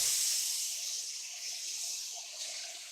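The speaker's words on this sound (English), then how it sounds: "to this, we're going to add in our breakfast sausage. And we're going to break it up a little bit" Breakfast sausage sizzles in a pot over medium-high heat, a steady bright hiss that begins loud and eases a little as it continues, with no voices.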